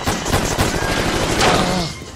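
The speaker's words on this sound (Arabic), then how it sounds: "انا مصر اني سمعت صوت رصاص" Film sound effect of gunfire in a comedy scene: a loud, close burst of rapid shots, several sharp cracks running together over about two seconds.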